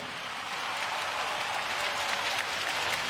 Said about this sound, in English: Another round of applause for our NS men.